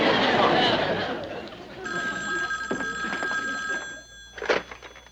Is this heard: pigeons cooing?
no